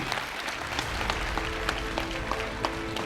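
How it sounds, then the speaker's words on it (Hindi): An audience at a motivational mentoring talk claps steadily and warmly throughout, a dense, sustained round of applause with scattered sharper claps standing out. "मैं चाहूंगा कि आप लोग एक बार दिल खोल के ताली बजाइएगा"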